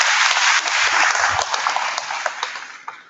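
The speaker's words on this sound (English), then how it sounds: "Let's give a round of applause for our Congresswoman." Audience applause at an outdoor community festival event honoring a congresswoman, a dense wash of many hands clapping steadily for about three seconds, loud and close, gradually tapering toward the end.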